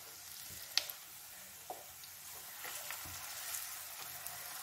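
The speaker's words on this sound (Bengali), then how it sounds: "এবার আমি তেল গরমও হয়ে গেছে, আমি আস্তে আস্তে করে ভাজিয়ে গেলাম" Chicken bread rolls frying in hot oil keep up a steady, faint sizzle and crackle at close range, broken by a few brief clinks as the rolls are turned, and no voices are heard.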